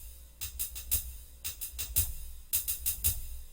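A combined drum pattern of kick and snare hits with crisp cymbal or hi-hat strikes, played in short repeated bursts of several hits each with brief gaps between phrases, clear and close with no talking.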